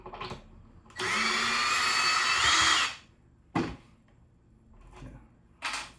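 A power drill drives a screw into drywall in one sustained, loud, whining burst of about two seconds. Its pitch wavers slightly as it works, and a few sharp clicks and knocks from handling follow.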